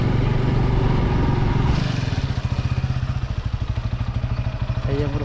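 Motorcycle ridden near Deuljhari hot spring by the Baba Siddheswar temple in Anugul, its engine a steady close putter that turns into a rhythmic pulsing chug after the first couple of seconds, with faint voices in the background.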